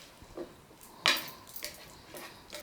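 Fried rice stirred in a pan with a utensil: a few quiet scrapes and light metallic clinks at irregular intervals, one sharper knock standing out, over a faint background hiss.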